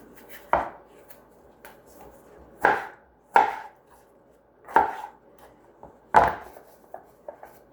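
Tomatoes being cut on a board with a knife, five or six separate, sharp chopping knocks at uneven intervals, close and clear against near silence.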